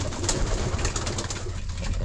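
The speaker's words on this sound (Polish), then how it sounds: "Pocztowy gołąb." Homing pigeon cooing among a flock at feeding time, a continuous low murmur of coos close by with soft rustling and no speech.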